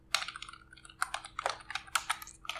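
Code typed on a computer keyboard, a steady run of close, crisp key clicks in small irregular bursts, with no talking.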